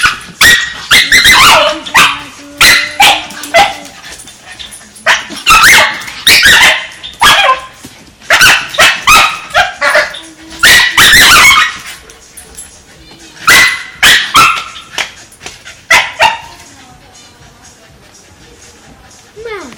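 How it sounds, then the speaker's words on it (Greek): Bersca the dog gives squeaky, high-pitched barks and yips in rapid repeated bursts, close and loud, with people talking between and over the barking. "Να ηχογραφήσουμε το γάβγισμα το τσιριχτό της Μπέρσκα."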